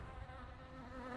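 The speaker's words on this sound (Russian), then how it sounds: "Назойливая муха беспрестанно ползала по стеклу" A housefly buzzes steadily as it crawls against a window pane in a forest-themed horror video game, a continuous close drone with a faint wavering pitch and no talk.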